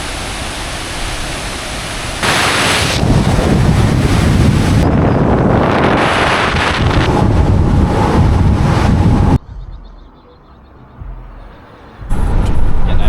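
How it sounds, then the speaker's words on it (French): Small waterfall in Iceland roaring as a steady, loud broadband wash of falling water mixed with wind buffeting the microphone, dropping briefly quieter before surging back near the end. "Franchement, très bonne petite cascade, j'adore."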